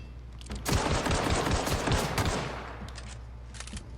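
Rapid automatic gunfire from The Outer Worlds video game, a dense burst of loud close shots lasting about two seconds, then a few scattered trailing shots, with no talking.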